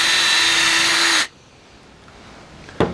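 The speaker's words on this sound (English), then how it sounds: "Then we'll drill our holes from the other side." A hand-held power drill whines loudly and steadily up close while drilling holes for a homemade friction folder knife, then abruptly stops, leaving quiet room tone and a brief knock at the end.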